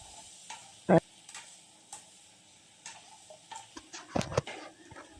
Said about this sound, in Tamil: உப்பையும் போட்டு நல்லா வதக்கிடுங்க